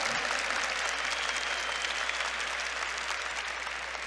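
A church congregation applauds during a service on intercession, producing a dense, steady wash of clapping that holds loud and even for several seconds before easing slightly.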